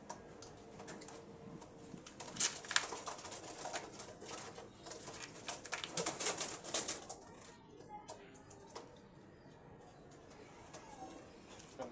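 Pigeons being kept as breeders flap their wings in sharp bursts, with faint soft cooing and light ticking movement sounds, fairly quiet and close.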